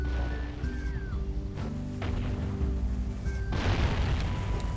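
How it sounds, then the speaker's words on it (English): Cannon blasts in the video game Jak and Daxter: The Precursor Legacy, a few deep booms going off close by, heavy and layered under the game's continuous background music and ambience. "it does fire the cannon near you"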